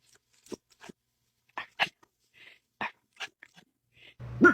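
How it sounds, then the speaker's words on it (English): A dog gives a series of short, quiet huffs and soft barks on command, sparse bursts separated by silence, ending with a louder rustle nearby. "You whisper bark. You go woof."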